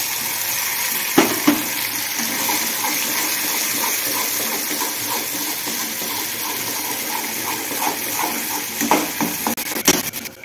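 Spice masala dropped into hot oil already holding sautéed coriander and curry leaves for a Maharashtrian udad dal amti, sizzling steadily while a spoon scrapes and stirs the pan in a few sharp clinks.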